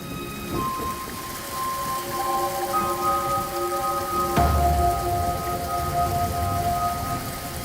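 Steady rain patters down, with a faint rumble of thunder and a few sustained tonal hums layered over the constant wash of drops.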